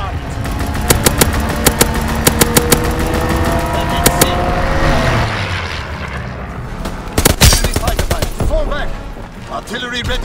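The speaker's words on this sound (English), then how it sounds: "Fighter pilot inbound, strafing the target." In Call of Duty WWII, a fighter plane makes a strafing run, its engine sweeping overhead amid loud, rapid machine-gun bursts and sharp shots, mixed with game sounds.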